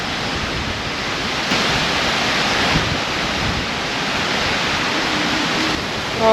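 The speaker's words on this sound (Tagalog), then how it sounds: "Grabe, lakas pa rin ng hangin" Strong wind roars steadily while camping through a heavy rainstorm at Buyon, Mayon, Tabaco, Albay, a broad, loud rushing wash of wind and rain that swells in a few gusts, with no talking.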